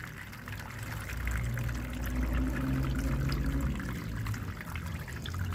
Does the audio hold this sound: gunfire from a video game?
no